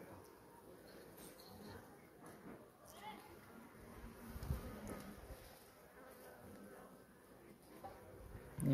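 Honey bees buzzing at a beehive during an October inspection of honey stores and brood, a steady low hum with someone talking quietly over it and some handling noise near the end.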